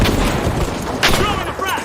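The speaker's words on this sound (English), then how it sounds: "Sending a frag!" Frag grenade in The Finals going off with a loud, close blast among dense gunfire and battle noise, a sharp burst over a constant roar, with voices mixed in.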